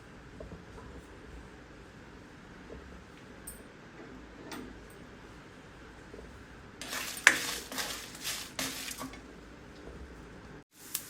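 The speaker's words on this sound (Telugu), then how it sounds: "ఒక పది నుంచి పన్నెండు ఎండుమిరపకాయలు వేసి బాగా దోరగా వేయించుకోవాలి" Quiet kitchen ambience with faint ticks, then a short stretch of dry rattling and scraping as spices and ten to twelve dried red chillies are tossed and stirred in a pan.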